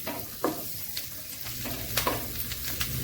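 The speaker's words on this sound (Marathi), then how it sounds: "त्यामुळे थोडंसं ह्याला परतून घ्यायचं आहे" Garlic sautéing in a hot pan for garlic bread, a steady close sizzle broken by a few sharp scrapes and clinks of a stirring utensil, with no talking.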